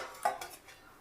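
A single sharp metallic clink as a lid drops onto a pot of tomato rasam (tomato charu) on the stove, followed by quiet kitchen room tone.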